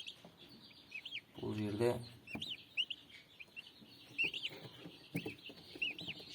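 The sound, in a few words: turkey chicks peeping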